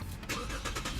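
A 2017 Lexus IS350 F Sport's 3.5-liter V6 starts by push button, a brief crank followed by a low, steady engine rumble heard from inside the car.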